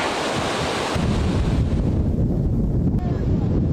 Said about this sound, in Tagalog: Sa gitna yan ng malakas na hangin at malalaking alon na naranasan sa bayan ng Sanchez Mira, dala ng bagyong Marce